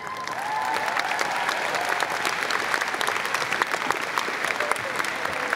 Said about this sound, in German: Applaus dafür, dass du so mutig bist.